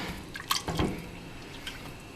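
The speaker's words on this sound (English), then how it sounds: "I'm going to add this 2 cups of beef broth into that" Homemade beef broth is poured into a pot of French onion soup, giving faint splashes and drips with a few brief louder splashes and no talk.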